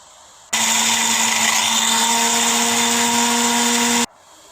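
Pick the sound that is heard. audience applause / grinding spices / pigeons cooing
grinding spices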